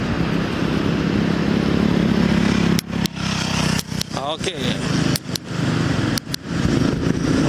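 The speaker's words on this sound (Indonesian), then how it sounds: "Nah, motor-motor lewat di sini banyak." Motorcycles pass along a street in a steady rumbling engine drone that cuts out in brief gaps, while someone talks nearby.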